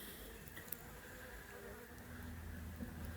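Honey bees buzz in a dense, continuous drone as they are shaken off a foundation frame in a mini beehive, faint and steady throughout.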